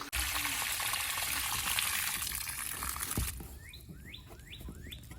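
A garden hose or tap runs with a loud steady gush of water outdoors, then is shut off abruptly, leaving quieter ambience with bird chirps.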